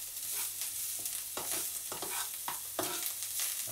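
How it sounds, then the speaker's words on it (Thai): Garlic fries in a little oil in a pan for a chicken stir-fry with roasted chili paste, a constant soft sizzle under a series of spatula scrapes and taps at irregular intervals; no voices. "บิวซังก็เลยมาเจียวกระเทียมก่อนเจียวกระเทียมก่อนแต่ว่าไม่เอาไปตากไว้นะก็คือเจียวแล้วก็ผัดลงไปเลย"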